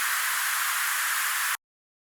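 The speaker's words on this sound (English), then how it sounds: "Then add some white noise to add some texture to the track." A burst of white noise layered as texture in a techno track, a dense hiss held steadily for about a second and a half before cutting off abruptly into silence.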